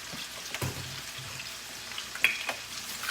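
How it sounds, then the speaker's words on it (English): Veal chops sear in a hot pan with a steady, close crackling sizzle, dotted with brief sharper pops and spits, and no voices over it. "So I got these nice veal chops. I'm just going to do a quick sear"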